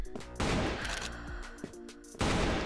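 Gunfire from weapons in the online shooter CrossFire, with the AWM Stripes zebra-pattern sniper rifle among them: a short burst of loud shots opens the clip and more loud shots close it, separated by quieter in-game sounds in between.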